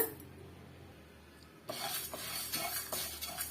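Spice ingredients being sautéed in a kadai for Chettinad chicken varuval, quiet at first, then a sudden sizzle with spoon scraping and stirring against the pan, close and fairly faint.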